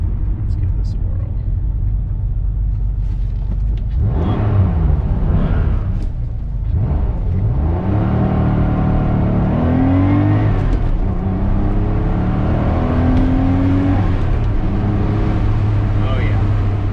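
A Porsche 911 SC revs and pulls away, its engine note rising and falling through several accelerating sweeps over a steady rumble, close and loud, with someone talking over it.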